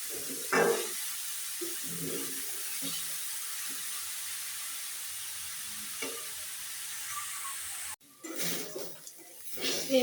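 Shredded cabbage fries slowly in a pan for a vegetarian cabbage ghonto, giving a steady sizzling hiss broken by a few soft clinks of stirring. A brief louder clatter and scrape comes near the end.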